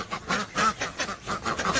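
Ducks and geese call at afternoon feeding time with a rapid run of overlapping quacks and honks, close and fairly loud, in a steady rhythmic chorus.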